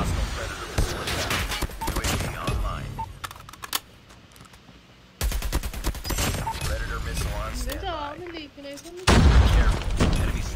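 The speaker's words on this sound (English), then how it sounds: "Hostile predator missile attack." Predator missile strikes in the Call of Duty Mobile video game land as sudden, heavy explosive blasts, one mid-clip and another near the end, amid scattered gunfire and typing-like clicks, with game voice announcements talking throughout.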